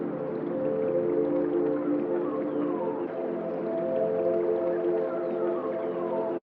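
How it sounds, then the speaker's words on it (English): Pitched, resonant chords ring steadily throughout, a Foley sample run through a resonator tuned between 200 and 900 Hz so it sounds tonal and sustained, with faint gliding textures above. "Then you just play in some chords and you get a nice, pretty Foley chord fun."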